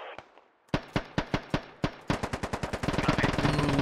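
Gunfire in a military video game, with a few spaced single shots followed by a fast, rising rattle of automatic fire, fairly close as the team comes under attack.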